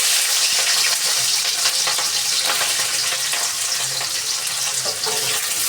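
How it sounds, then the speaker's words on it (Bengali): Flat beans (sim) tip into hot oil in a wok, setting off a steady, loud, broadband sizzle that hisses on without a break and is heard with no one speaking. "এখন এই যে সিমগুলোকে দিয়ে দিব তেলের মধ্যে।"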